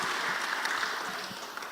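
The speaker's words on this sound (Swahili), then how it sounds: "Apigiwe makofi." A congregation claps during a Kikuyu church service, a dense, even burst of applause that holds steady and then tapers slightly.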